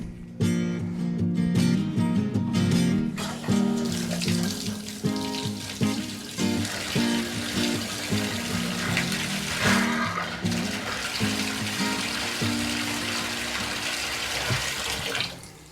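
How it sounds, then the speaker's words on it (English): Water runs from a tub and shower after a valve replacement, a steady broadband rush that keeps going for the whole stretch, with sputtering bursts as air clears from the lines. "let's run this shower"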